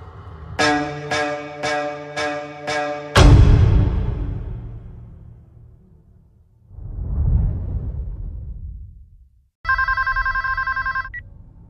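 An old-style telephone bell rings in a horror movie trailer. A steady ringing burst closes the clip, after a series of sharp stabs, a deep booming hit that fades away, and a low rumbling whoosh.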